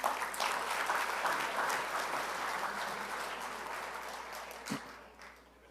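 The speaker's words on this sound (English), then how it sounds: "So let's give her a round of applause." An audience at a Bella Vista College Prep graduation ceremony claps in a dense, sustained burst that slowly thins and fades out near the end, with no voices over it.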